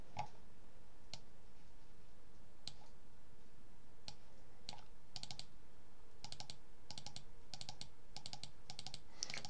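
Mouse clicks on compositions in the Krita drawing program, sharp isolated ticks that come sparsely at first and then in quicker bursts, close and fairly faint over a steady low hum.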